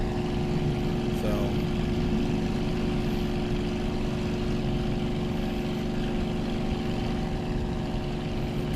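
Aircraft engine in the flight game World Flight VR, heard as a steady, loud droning hum with layered tones that hold nearly constant throughout and no clear change in pitch.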